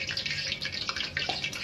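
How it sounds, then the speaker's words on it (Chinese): Chopped eggplant is rinsed in water, with a soft continuous trickle and splash of water close by for a brief moment. "用水呢淘洗一下，再把水分滗出去"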